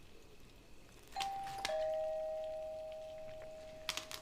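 A doorbell sounds a two-tone ding-dong chime, the second note ringing out and slowly decaying, fairly faint over a quiet room with a brief exclamation from a voice just before it.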